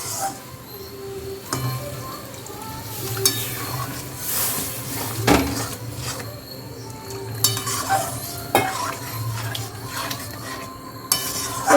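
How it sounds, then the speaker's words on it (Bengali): A ladle scrapes and clinks around a pan of restaurant-style tarka with water added, the steady stirring broken by sharp metallic knocks over a low simmering hiss, with a faint voice now and then. "নাড়াচাড়া করে নিয়েছে এবার একটু জল দিয়ে দিচ্ছে"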